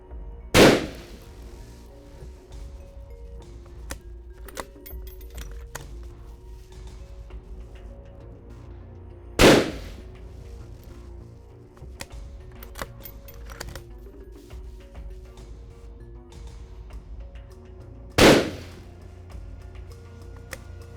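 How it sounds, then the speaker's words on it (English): Three sharp rifle shots from an Anschutz 1782 hunting rifle ring out about nine seconds apart, each a loud, crisp crack that decays quickly over a quiet background. "let's shoot and see how well this Anschutz 1782 performs."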